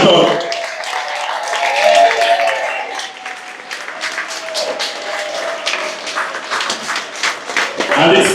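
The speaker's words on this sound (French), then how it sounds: "sous un tonnerre d'applaudissements" An audience at a constituent general assembly of a political union breaks into loud, sustained applause, the clapping swelling and fading over several seconds with voices and cheering mixed in.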